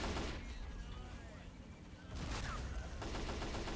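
Dense, continuous gunfire in S.T.A.L.K.E.R.-themed Men of War: Assault Squad 2, a sustained burst of rapid shots with a brief lull mid-way before the volley picks back up, loud and busy.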